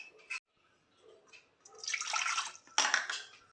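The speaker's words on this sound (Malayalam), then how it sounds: "അപ്പം നമുക്കിതിലേക്ക് ഒരു 3 കപ്പ് വെള്ളം ഒഴിച്ചു കൊടുക്കാം." Water poured into a pot, a splashing rush that builds over about a second and then surges again briefly, after a few faint clinks, with no talking.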